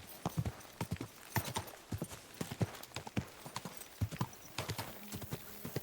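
Steady clip-clop of horse hooves on a hard surface, close and rhythmic, with a brief whinny breaking in near the end.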